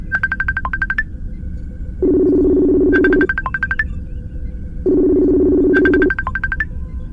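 Electronic outgoing call tones: a repeating pattern of rapid high beeps alternating with a steady buzzing ring tone, cycling regularly.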